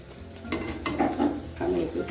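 Luchi fries in hot white oil in a wok while a utensil stirs and turns it, making a steady sizzle broken by repeated clinks and scrapes against the pan, close and moderately loud.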